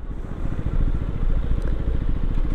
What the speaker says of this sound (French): Très bon frein moteur sur la seconde.